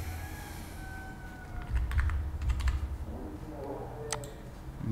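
Password being typed on a computer keyboard, with bursts of quick, light key clicks at moderate distance over a low background hum, no talking.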